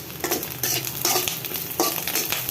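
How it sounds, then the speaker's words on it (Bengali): Garlic, prawns, green chillies and dry chillies fry together in hot oil, a dense steady sizzle with bursts of stirring scrapes from a spatula in the pan, close and without talk. "আমি রসুন, চিংড়ি মাছ, কাঁচামরিচ, শুকনো মরিচ সব একসাথে দিয়েই ভাজা দিচ্ছি"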